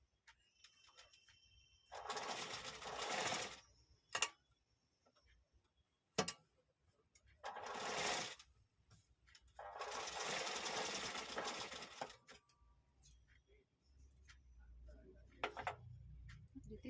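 Sewing machine stitching a strip of saree fabric, running in several separate bursts of rapid mechanical whirring a second or two long, with quiet pauses and small clicks between runs, close-up.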